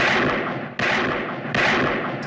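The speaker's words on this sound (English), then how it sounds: "He saves her life by shooting him 6 times." Gunshots in a Halloween film scene, a man firing repeatedly at Michael Myers: three loud, sharp reports about three-quarters of a second apart, each followed by a decaying roar, with a fourth starting at the very end.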